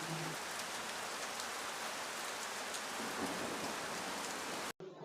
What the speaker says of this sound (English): It is normal rain.